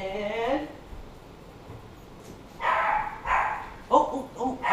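A small puppy lets out a string of high yips and barks, close by and moderately loud, first a single bark and then several quick ones, with a person speaking at times.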